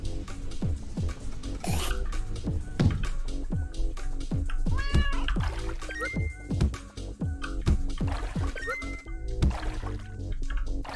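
Repeated meows from a cat in the video game Turnip Boy Commits Tax Evasion, sounding alongside dense game music and dripping, liquid-like effects throughout.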